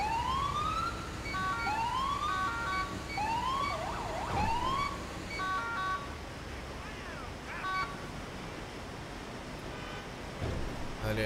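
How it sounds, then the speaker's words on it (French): A tow truck siren on a highway in the video game GTA 5: loud, repeated rising wails sweep up four times in quick succession, then give way to scattered horn-like tones over a steady road and engine rumble. "quand ils interviennent sur l'autoroute, ils ont le droit de mettre leur sirène"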